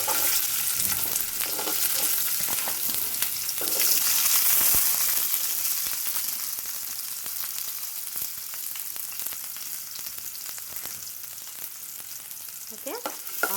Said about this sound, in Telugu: ఆనియన్ వేసేసుకొని దీన్ని మంచిగా కొంచెం బ్రౌన్ కలర్ వచ్చేదాకా ఫ్రై చేసుకుందాము.